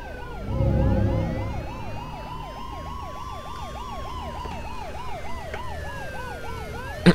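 A police siren in the video game Spider-Man: Web of Shadows wails in rapid rising and falling sweeps, loud at first and then steady. Layered siren tones overlap, and a sharp thump lands at the very end.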